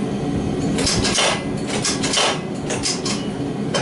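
A power hammer striking metal in a workshop, a loud run of rapid, uneven heavy blows over a constant machine rumble.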